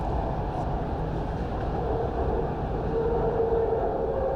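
A Bangkok Purple Line electric metro train hums and rumbles steadily from inside a carriage, a constant droning roar with a faint tonal whine over it.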